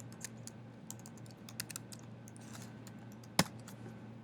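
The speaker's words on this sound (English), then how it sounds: "So go ahead and type this in." Keys clatter on a computer keyboard in quiet, uneven bursts of typing, with one sharper louder tap near the end and no talking.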